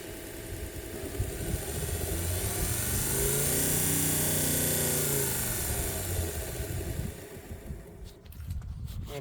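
Electric desktop belt grinder with a brushless motor running outdoors, a steady whirring motor hum with a rising and falling tonal sweep, moderately loud and sustained before some handling noise near the end.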